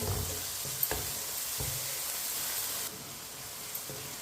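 Tomatoes and green chillies cooking in a pan over medium heat give a steady, gentle sizzle with a few soft stirring knocks, no voices.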